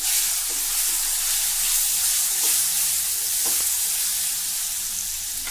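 Guava pieces frying in hot oil with curry leaves and a pinch of turmeric: a loud, steady, close sizzle and hiss runs throughout, with faint stirring taps.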